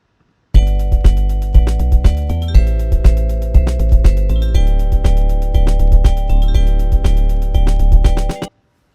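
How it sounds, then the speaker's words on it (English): Electronic drums play a steady beat of kick, snare and hi-hat with punchy repeated hits in a regular rhythm, loud and dry with no talking. "I just did this hi-hat and snare progression on my electronic drums."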